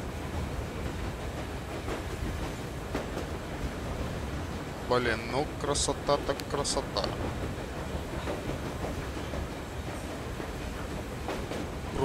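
Steady rolling rumble and rattle of a train in Metro Exodus, a continuous wash of wheel and carriage noise with someone speaking briefly over it midway.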